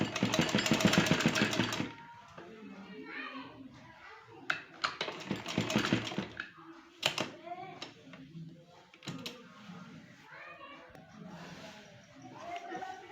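A sewing machine stitches the folded boat neck collar of a kurti, running in a loud rapid burst at first, then in short intermittent spurts and clicks while someone talks over much of it.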